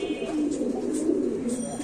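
Black Bombay pigeons coo in a low, steady, rolling call, close and fairly loud, with no voices.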